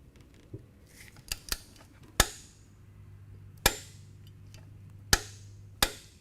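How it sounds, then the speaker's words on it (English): A torque wrench set to 16 foot-pounds clicks sharply on the primary cover bolts of a Harley-Davidson motorcycle, with about six distinct, irregularly spaced snaps against a quiet background. "So now you want to take your torque wrench, and you'll want your torque wrench set at 14 to 21 foot-pounds of torque."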